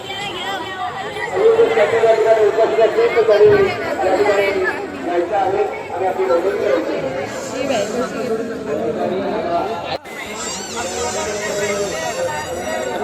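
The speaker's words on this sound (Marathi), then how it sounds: "रासाई देवी जत्रा आचिर्णे भरपूर गर्दी आहे" Dense crowd chatter fills the grounds of the Rasai Devi temple fair (jatra) in Achirne, a steady babble of many voices near and far with a brief dip and shift in texture partway through.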